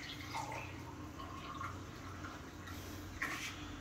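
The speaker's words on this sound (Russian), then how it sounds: "Теперь мы немножко воды запускаем в это пространство." Warm water poured into a pitcher over sugar while making lemonade at home: a faint, continuous trickle and splash under a low background hum, with no talking.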